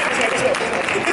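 Brief burst of crowd applause from the audience at a psychic expo hypnosis talk, a continuous wash of many hands clapping at even loudness for about a second.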